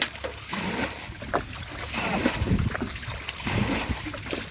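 Rushing water flows steadily through a village field channel during a murrel fish hunt, a broad continuous wash with occasional splashy bursts, fairly close and moderately loud.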